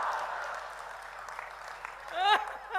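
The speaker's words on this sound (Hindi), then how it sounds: "तालियां बजाओ एक बार जरा बढ़िया वाली पीछे तक।" A comedy show audience claps through the first two seconds, the applause thinning and fading before a voice speaks at the end.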